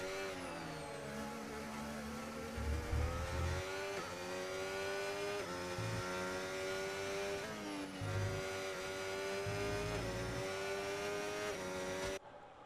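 Race cars in the F1 25 video game scream past at Hungary, high-pitched engine notes rising and falling through gear shifts, several cars close together, with no talking.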